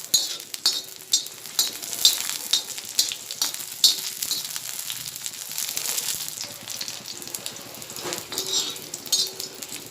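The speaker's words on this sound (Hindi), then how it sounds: "इसको हम एहतियात से तलेंगे क्योंकि ये तलते वक्त मिर्ची उड़ती है" Chillies for kharda chutney fry in a pan, crackling and sizzling steadily all the way through. Frequent stirring scrapes and clinks sound near and fairly loud, with no voices.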